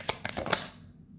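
Tarot cards riffle and snap in a quick burst of crisp flicks up close, then fade to quiet within about a second.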